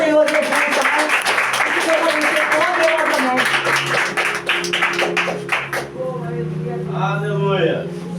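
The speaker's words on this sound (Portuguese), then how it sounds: "Dá uma linda salva de palmas para o Senhor Jesus" A church congregation claps together through a worship service, a dense rhythmic patter of many hands under sustained music and voices, tapering off near the end as a single voice continues alone.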